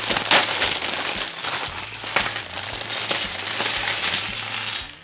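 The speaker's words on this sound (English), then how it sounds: "I'm going to rip this open quick" A package being ripped open by hand: loud, close crinkling and tearing of wrapping, with scattered sharp crackles and rustles running continuously throughout.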